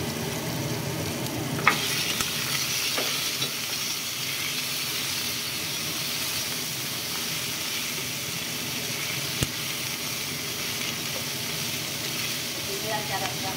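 Chicken fries with chili, lemongrass and galangal in a steady, loud sizzle and hiss that runs the whole time, with a couple of brief clinks from the pan and faint voices in the background.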